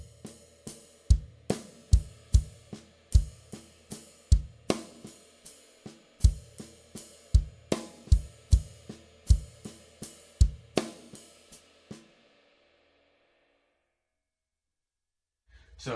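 Slow full-bar groove on a drum kit, with sharp kick and snare hits, layered cymbal ring and distinct pauses, played clearly and alone for about twelve seconds before the last cymbal decays into silence.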